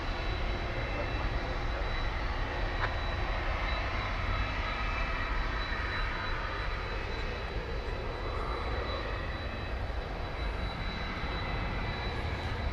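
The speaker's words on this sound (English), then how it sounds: "It's a 12-year-old 767-300ER freighter." A twelve-year-old Boeing 767-300ER freighter jet at DFW Airport gives a steady, broadband engine roar that holds at an even loudness throughout, with a faint high whine running over the rumble.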